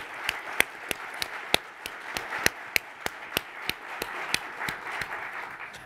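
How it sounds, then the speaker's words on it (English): A sparse audience at a civic learning forum applauds its panelists, with a handful of distinct, sharp individual claps ringing out irregularly over a soft background murmur. "give our panelists a great, thankful round of applause"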